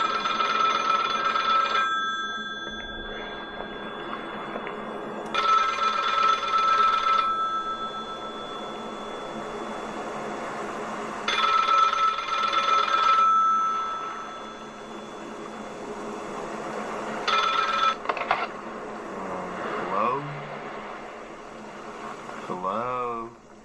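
Telephone bell ringing in repeated bursts inside an abandoned carrier in backrooms found footage, each ring lasting about two seconds with pauses between, over a steady hum and background noise.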